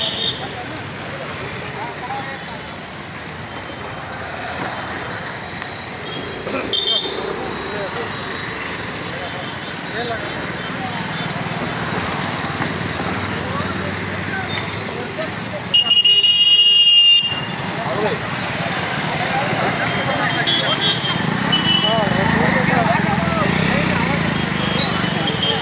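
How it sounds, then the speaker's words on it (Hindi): A family car driving along a market road between Baloda Bazar and Bhatapara, with a steady road rumble and passing traffic noise, a brief horn toot near the middle, and a person talking over it throughout. "ये है हमारी फैमिली गाड़ी।"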